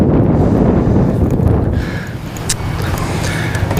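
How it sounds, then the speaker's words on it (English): Strong wind at a fishing spot buffeting the microphone, a loud rumbling gusty roar that rises and falls throughout with no talk. "Oh my, I might have picked the wrong spot with this much wind."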